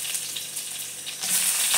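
Curry leaves sizzling in homemade ghee with cumin and mustard seeds for a tempering, a steady crackling fry that grows louder and brighter partway through.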